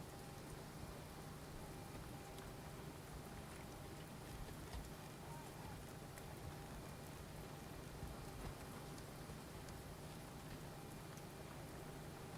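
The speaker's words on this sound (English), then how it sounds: "It's still raining." Steady rain patters on the outside of a cockpit at Durban before a flight to Port Elizabeth, a dense, even hiss running for the whole stretch under a low hum, with no clear voices over it.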